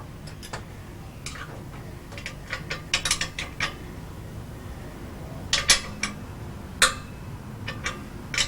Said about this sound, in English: Gets out the spanners and scrunches up a nut or two.